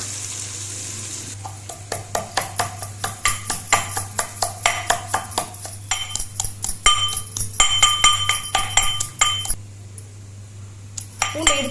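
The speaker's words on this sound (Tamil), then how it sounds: "நான் அதுக்காக பூண்டு இடிக்கிறேன்" Garlic is pounded for a home-cooked fish curry, giving a steady run of sharp rhythmic strikes with clinking edges, repeated dozens of times over a constant low kitchen hum, with no talking.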